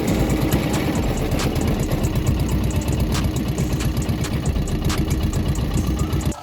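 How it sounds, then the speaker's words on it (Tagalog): A boat engine idles loudly and continuously with a rough, chugging low-end rumble and a steady rhythm, close by and alone, dropping off briefly at the very end. "Dito guys ay napaandar na namin yung makina."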